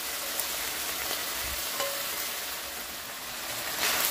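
Food sizzles and fries steadily in a pan while lasagna filling is being cooked, a continuous close hiss with a few faint stirring clicks and no talking.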